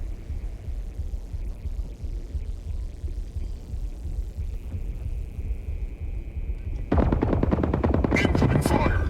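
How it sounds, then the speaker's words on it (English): Mech gunfire in the Mech Arena video game: a low throbbing rumble of fire, then a louder burst of rapid automatic shots near the end, with no talk over it. "Incoming fire"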